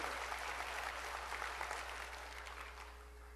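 A church congregation claps steadily during a sermon, a dense, continuous wash of many hands at fairly even loudness that eases slightly toward the end, with no talking over it.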